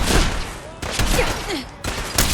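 Crossbow shots fired in the Fallout 4 video game, a series of sharp loud bursts with brief gaps between them, mixed with other game noise and a little speech.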